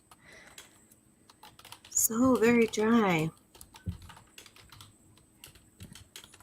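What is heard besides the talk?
computer keyboard typing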